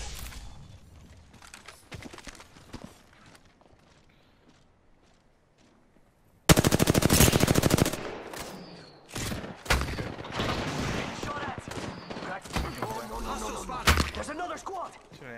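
Gunfire from the Apex Legends video game: scattered sharp shots at first, then a sudden loud stretch of rapid automatic bursts mixed with other battle effects, with voices talking over parts of it.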